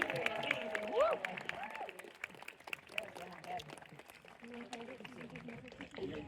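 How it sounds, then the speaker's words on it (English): Audience at an outdoor falconry show clapping for a red-tailed hawk, a scattered, moderate round of applause with a voice talking over it and a brief whistle-like tone near the start. "Everyone give Titus a big round of applause"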